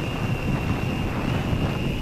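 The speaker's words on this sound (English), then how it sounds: "from the microphone you can actually hear that the wind is pretty bad" Heavy wind buffets a microphone outdoors during a hexacopter maiden flight, a loud, continuous low rumble filling the whole short stretch without a break.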